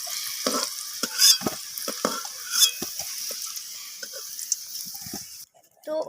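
Potatoes fry in hot oil in a pan with a steady crackling sizzle, punctuated by sharp clinks and scrapes of stirring throughout, with no talking.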